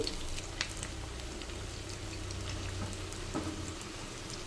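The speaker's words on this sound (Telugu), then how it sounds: "అన్ని బజ్జీలు వేసుకొని రెండు నిమిషాల పాటు కదపకుండా ఫ్రై చేసుకోవాలి" Onion-stuffed mirchi bajji (chili fritters) deep fry in a pan of oil with a continuous, close crackling sizzle and scattered small pops. The frying is heard alone.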